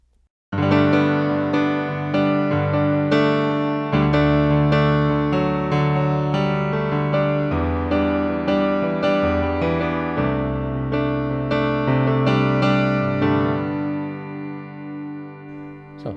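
Piano plays the intro riff of a song, a steady, loud run of bright repeated chords over low bass notes, sounding alone and close for about fifteen seconds before fading out.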